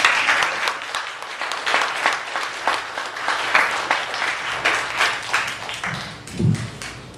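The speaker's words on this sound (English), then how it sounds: "another round of applause for Brad" Audience clapping after a fringe magic performance, a lively burst of many hands that rises and falls in waves, with a brief low thump near the end.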